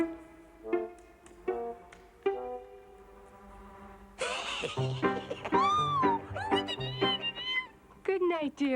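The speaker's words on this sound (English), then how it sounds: "Why, it's just a little kitten." Little kitten in an animated cartoon, with several high, wavering meows and squeaks up close, overlapping plucked background music, following a stretch of music alone.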